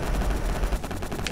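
Rapid machine-gun fire from the pixel-art shooter video game Boss 101 runs continuously as a dense, loud burst of shots with no talk over it.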